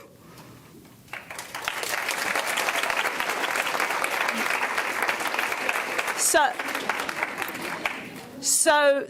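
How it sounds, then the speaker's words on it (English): Audience applause for a graduating senior at a high school senior recognition event, a broad steady wash of clapping rising after a brief word and holding for several seconds before a short swell near the end. "Sage is going to get an extra dose of applause"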